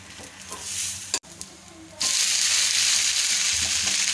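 A rice flake (aval) dosa cooks in a pan, frying quietly at first; oil is poured around it and a loud, steady sizzle takes over for the rest, close and continuous.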